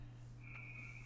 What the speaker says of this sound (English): Do I hear a frog in somebody's room?